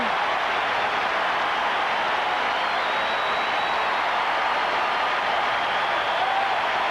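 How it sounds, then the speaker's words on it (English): Fans in a football stadium at a 1984 Dolphins versus Steelers game give a distant, steady roar of applause and crowd noise that holds at an even level without a break. "Nice round of applause of appreciative fans"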